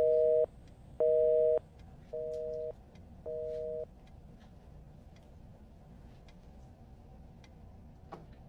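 Telephone busy tone after a call is cut off: four beeps, the first two long and loud and the last two shorter and quieter, then faint background noise.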